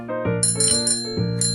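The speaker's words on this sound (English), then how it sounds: "Bicycle." A bicycle bell rings in a few quick, bright metallic chimes, close and clear with no other sounds around it.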